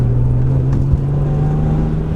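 High-mileage BMW M3 with an engine fault drones steadily from inside the cabin while driving, a low constant hum with a faint uneven note and a brief knock.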